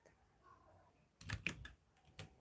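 Keys pressed on a computer keyboard, a quiet room and then a quick cluster of several close clicks and taps, followed by two more isolated presses.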